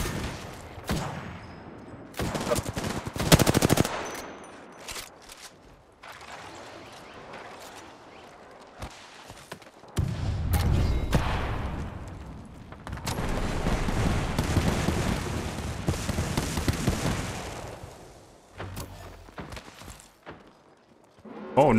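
Gunfire in the video game Apex Legends during a ranked match, bursts of rapid automatic shots and sharp blasts coming and going over a background of game noise and movement, with loud stretches and quieter gaps.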